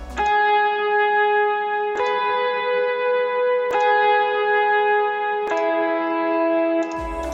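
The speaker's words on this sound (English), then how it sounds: "It's just an electric guitar on which I put a lot of reverb" Sustained electric guitar chords ringing out with heavy reverb, four long strummed notes each blooming and washing into the next.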